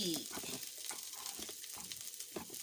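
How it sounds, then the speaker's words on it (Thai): Chili stir-fried in oil left over from frying eggs in a wok gives a quiet, steady sizzle with soft irregular scrapes from stirring. "เราก็จะผัดพริกนะคะ ก็พอดีเลยมีน้ำมัน ก้นกระทะ"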